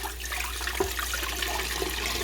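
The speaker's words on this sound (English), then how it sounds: "So now I need 8 cups of water to go in here. Okay, so we're just gonna pour this in." Eight cups of warm tap water pour steadily into a pressure canner, a continuous rushing splash with a faint clunk partway through and no talking.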